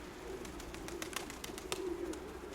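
A pigeon in a loft gives a faint, low, steady coo over a quiet background with light intermittent clicks and taps.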